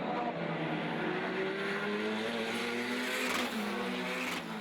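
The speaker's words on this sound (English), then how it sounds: "Just watch and listen to these cars mid-race." GT race cars at Zwartkops Raceway mid-race, engines droning and shifting pitch as several cars pass at a distance, a steady layered whine fading slightly at the end.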